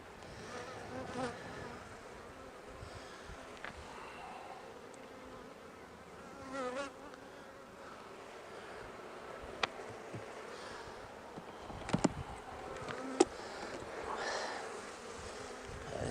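Honeybees buzz steadily around an open, overwintered hive crowded with brood frames, a continuous close hum with a few brief clicks and taps from handling the frames.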